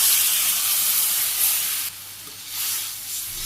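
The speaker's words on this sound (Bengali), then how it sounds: "আলুগুলো কষানো হয়ে গেছে, আমি জল দিয়ে দিই" Water poured into a pan of spiced potatoes that were frying in salt, turmeric and dried chili powder, letting out a loud rushing hiss of steam that dips briefly and then swells again, close by, with no voices.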